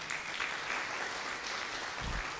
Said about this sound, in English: A round of applause for Danson.